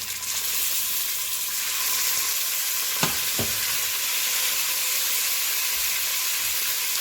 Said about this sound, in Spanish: Tenemos el aceite caliente, entonces vamos a sellar la carne